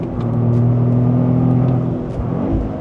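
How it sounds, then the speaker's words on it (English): A 2025 Toyota GR Corolla automatic on a track blips its engine in a rev-matched downshift to third, a loud close steady engine drone that shifts pitch briefly near the end. "Rev matching on to third, down for this one."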